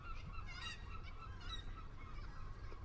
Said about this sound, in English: Are the seagulls too loud?